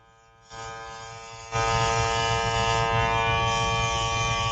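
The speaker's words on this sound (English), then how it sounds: "So I'm taking the airbrush." An airbrush sprays makeup foundation onto a face, giving a steady, close electric buzz and hiss. The tone starts softly, then jumps louder after a second or so and holds evenly to the end, with nobody speaking.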